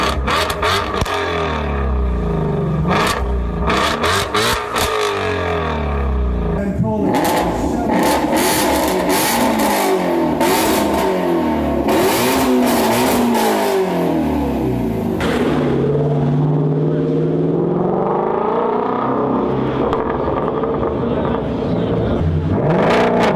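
A Ford Mustang with a 5.2-liter, 526-horsepower engine revs hard, its loud exhaust note rising and falling in repeated sweeps across the whole stretch.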